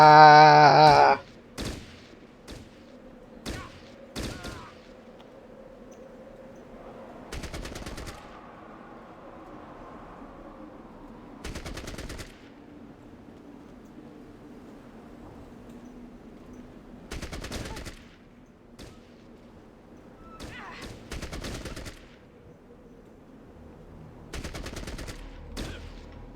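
AK-47 fire in a video game comes in separate short bursts of rapid shots spread across the stretch, loud sharp cracks against a quiet low hum, with a brief chime at the start.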